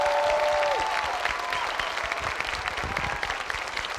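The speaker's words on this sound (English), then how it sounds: "One more round of applause for these outstanding scholars." Audience applause for student scholars at a school district awards ceremony, a steady wash of clapping throughout with faint crowd murmur and no talk.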